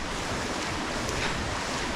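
A waterfall on the Pezo river makes a constant, dense roar of rushing water, close and unbroken, with no voices over it.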